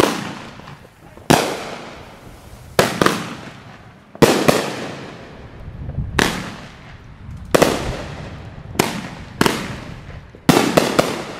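Loud New Year fireworks and firecrackers go off in a rapid series of sharp, near bursts, about a dozen bangs over several seconds, each with a crackling, echoing tail and no talk.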